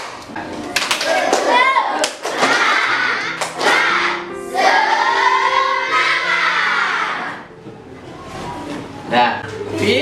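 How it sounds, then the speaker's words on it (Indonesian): Schoolchildren in a classroom chant and clap a rhythmic spirit routine, loud, close group voices punctuated by sharp unison claps in a patterned beat. "Tepuk semangat."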